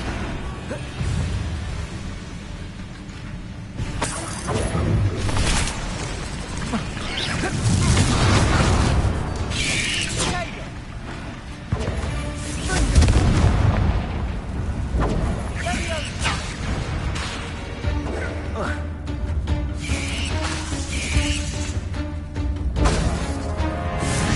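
Confringo fire spell blasts in the Hogwarts Legacy game, repeated loud booming explosions over a dense, continuous game soundscape with music and effects, with a voice speaking at times.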